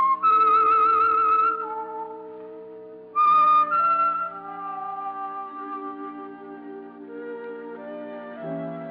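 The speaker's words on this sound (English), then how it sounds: "That whistle is your signal for the Signal Oil program, The Whistler." The whistled theme of The Whistler radio program, a clear melodic tune with sustained tones that glide between notes, carried alone in two phrases with a short break between them.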